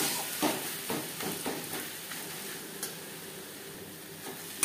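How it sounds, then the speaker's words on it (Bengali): Spiced egg curry masala in a pan is stirred while it fries, producing a soft continuous sizzle with a few quiet scraping strokes, close but faint. "কাঁচা গন্ধ যাওয়া পর্যন্ত নাড়াচাড়া করে নেব"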